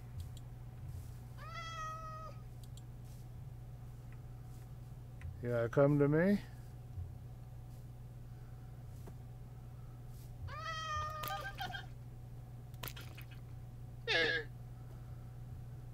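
A white cat in a Minecraft-style video game meows several times, short synthetic mews spread apart over a steady low hum, with a person speaking briefly.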